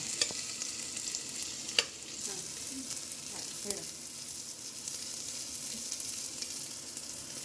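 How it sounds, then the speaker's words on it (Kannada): Garlic and onion fry in oil with a low, steady sizzle and occasional faint stirring clinks, no voices over it. "ಬೆಳ್ಳುಳ್ಳಿ ಈರುಳ್ಳಿ ಬೆಳ್ಳುಳ್ಳಿನ ಎಣ್ಣೆಲ್ಲ ಹಾಕಿ ಸ್ವಲ್ಪ ಫ್ರೈ ಮಾಡೋಣ"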